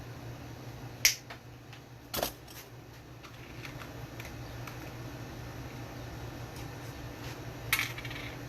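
Sharp cut of a small metal tab from a guitar blend potentiometer while prepping pickup and bridge wiring, heard as a few crisp clicks and snips, one near the start, another shortly after and a final one near the end, over quiet room hum.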